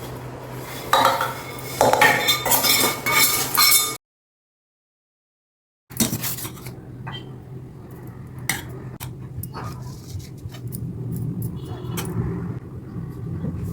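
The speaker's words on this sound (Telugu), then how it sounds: "ఇప్పుడు ఈ తాలింపు ఇందులో వేసేద్దాం" A spoon stirring tempering into semiya pulihora in a metal vessel, giving loud clinks and scrapes, then a silent gap, then lighter intermittent taps and scraping.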